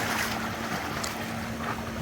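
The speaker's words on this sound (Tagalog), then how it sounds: "Kaya lang malakas ang alon guys." Steady rushing of rough sea water and wind noise buffeting the microphone, a constant loud wash with no voices.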